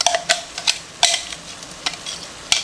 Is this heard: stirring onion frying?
yes